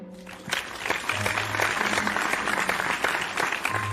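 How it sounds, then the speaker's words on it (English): Dense applause from a crowd starts abruptly and keeps up a steady, even patter of many hands clapping for several seconds, with no voices over it. "let's give a special round of applause to"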